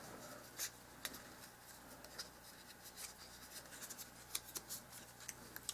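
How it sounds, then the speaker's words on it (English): Small scissors snipping paper tabs for dollhouse miniature kitchen cabinets, a series of faint, irregular close-up cuts and rustles in a quiet room. "So I'm just cutting so I have tabs."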